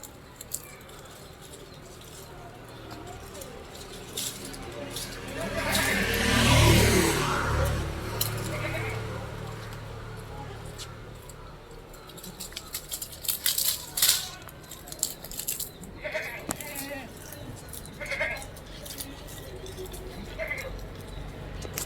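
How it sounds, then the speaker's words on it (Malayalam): A female Sirohi goat lets out one drawn-out bleat partway through, amid steady outdoor rustling and scattered taps, with a voice talking nearby. "നല്ലൊരു സിരോഹി ഇനത്തിൽപ്പെട്ട ഒരു പെണ്ണാട്"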